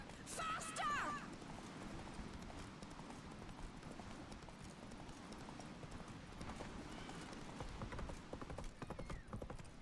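Roach, a horse in The Witcher 3, gallops with steady rhythmic hoofbeats at a loud, close level, mixed under game music and effects, with brief shouted voices near the start.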